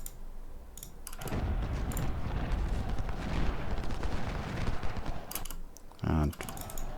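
Cannon and rifle fire in the Ultimate General: Civil War game at the Battle of Chickamauga, a dense continuous rumble of volleys and booms with a sharper burst near the end, no talk.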